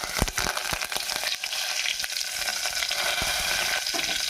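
Curry leaves, mustard seeds, cumin and chana dal crackle and sizzle steadily in hot oil, a loud close frying hiss with sharp pops scattered through it.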